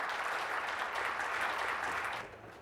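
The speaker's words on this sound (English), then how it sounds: "Give him a round of applause." An audience claps together in a steady, full burst of applause that fades down near the end.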